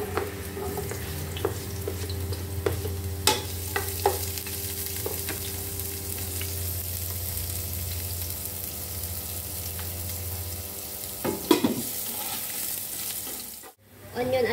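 Onion and garlic frying in a pan, a steady close sizzle broken by scraping and clattering stirring strokes, a low hum beneath, ending in a brief sharp knock.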